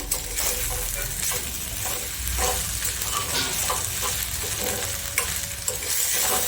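Sweet corn bhusu mixture is stirred in an oiled pan with a steady sizzle and fry hiss. Repeated scraping sweeps sound close and fairly loud, with no talking.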